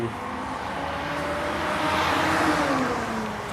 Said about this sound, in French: Il y a un camion de pompiers qui vient de passer. Ça fait du bruit ces trucs.